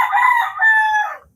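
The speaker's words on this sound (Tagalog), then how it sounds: "yung mga manok." A single rooster crows in the morning, close and clear, one drawn-out call lasting just over a second that rises, holds and then fades, with no other sound around it.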